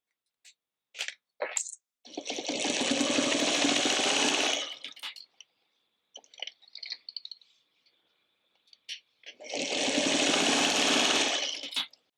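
Two long, steady bursts of sewing machine stitching on a fabric bowl cozy, close and fairly loud. Brief clicks and handling noises sit in the quiet gap between them.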